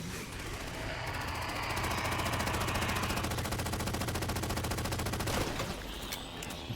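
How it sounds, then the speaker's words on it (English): Long sustained burst of automatic fire as a full drum magazine is emptied into a Knight in Halo 4, rapid evenly spaced shots rattling for several seconds before cutting off, loud and close with no voices. "Just put an entire drum mag into that knight."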